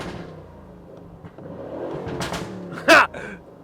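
An Aston Martin Vantage engine rumbles and revs, capped by a sharp, loud exhaust pop near the end, heard close by with no talking.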